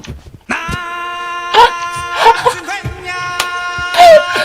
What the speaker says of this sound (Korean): 강아지, 강아지 조심해요